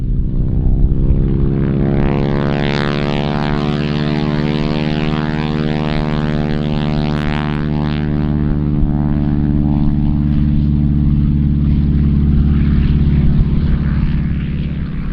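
A T-6 propeller airplane engine roars steadily and loudly at close range during takeoff, with a deep droning harmonic tone that rises slightly as it builds power.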